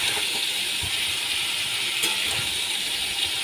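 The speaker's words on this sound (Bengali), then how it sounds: "কেটে রাখা ইঁচড়গুলো আমি ভালো করে এবার ভেজে নিচ্ছি।" Chopped jackfruit frying in a pan gives a steady, close sizzle and hiss that runs unbroken throughout, with faint clinks under it and no voices.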